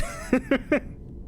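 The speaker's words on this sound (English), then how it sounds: "Please enjoy the soothing tones of scientific and medical monitoring while I eat some sandwiches." Three short, evenly spaced electronic beeps from medical monitoring equipment in the video game Kingdom Hearts II, clear and moderately loud, followed by quiet.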